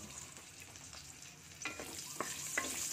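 Garlic sautéing in reused frying oil in a pan, a quiet steady sizzle with a few scraping stirs of a utensil growing slightly louder near the end.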